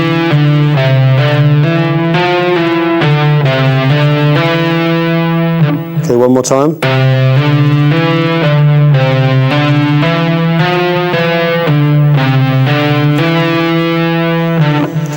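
Distorted electric guitar plays a rapid tapped lick on a single string, hammering and pulling off in crowded groups of notes, loud and continuous with a short break near the middle where a voice briefly speaks.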